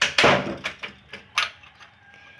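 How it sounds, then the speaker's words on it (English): A door is closed with a firm thud, followed by a few softer knocks and rattles as it settles, close by and with no speech over it. "And then, close the door."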